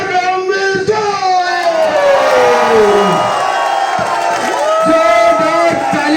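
A crowd cheers loudly to welcome a speaker, with sustained whoops and shouting voices rising and falling over a continuous roar of noise.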